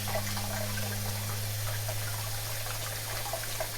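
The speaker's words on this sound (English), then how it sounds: "we're also going to wash our hands before cooking as well" Water running from a tap while hands are washed before cooking, a steady soft stream under a constant low electrical hum.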